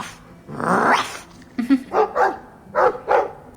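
A dog in the fantasy role-playing game Dragon Age 2 lets out a growly bark followed by a quick series of four or five sharp yips and barks, close and clear.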